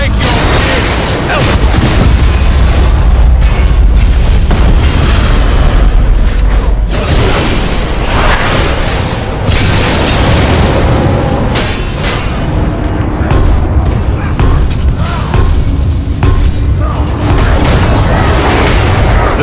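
Grenade explosions in the God of War Ascension multiplayer game, heavy booms and bursts repeating through a loud, chaotic battle mix with clanging mechanisms and a voice shouting over it.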